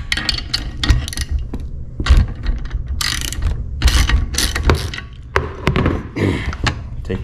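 Close, loud ratchet clicks and clunks in uneven bursts as a tubing flaring tool clamped in a vise is loosened, used on stainless steel tubing for lowrider hydraulics.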